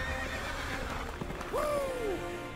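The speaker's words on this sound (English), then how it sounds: "They're using space horses." A single whinny from a cartoon space horse in a Star Wars parody rises and falls over a busy background of rumble and noise.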